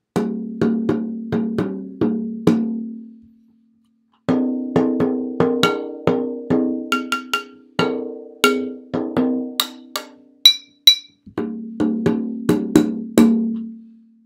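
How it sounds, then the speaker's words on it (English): Homemade drums struck with homemade mallets give quick, resonant, hollow knocks in lively rhythmic runs. Each hit rings briefly and decays, and the runs are split by short pauses. "really easy way to make some drums and some mallets with things that really should be probably in most people's homes"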